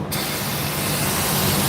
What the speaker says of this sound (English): I'm gonna spray brake clean back there to dry up all that, a little bit of spilt oil